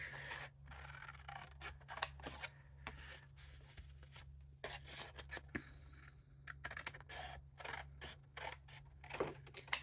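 Scissors or a paper trimmer cut black cardstock for a card mat in a quiet room, giving soft, close snips and scratchy strokes in uneven bursts with short pauses.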